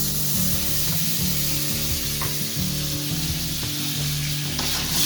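A whole stick of butter sizzles and spits in a hot skillet, a steady close crackle with small pops and a few light scrapes of a utensil against the pan.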